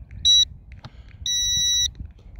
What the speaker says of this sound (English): First beep says that the two are bound.